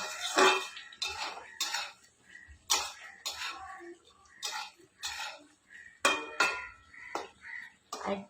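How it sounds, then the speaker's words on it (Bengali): A pot lid lifted off cooked ridge gourd in a home kitchen, then repeated metallic clanks and clinks of pot and utensils in uneven bursts, close and fairly loud, with no talking. "এখন আমি ঢাকনাটা উঠিয়ে নেবো দেখবো কতটা জল বেরিয়ে যায়"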